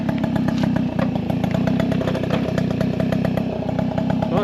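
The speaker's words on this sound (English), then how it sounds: "I guess it does want to idle now" A moped engine idles loud and close, a steady buzzing putter with rapid regular firing pulses and a rattly, slightly clattery edge, running alone without talk.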